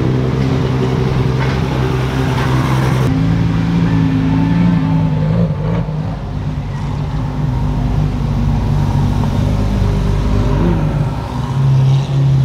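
A Toyota Supra sports car rolls past on a Miami Beach street, a steady loud engine drone holding close throughout with a slight rise and fall in pitch.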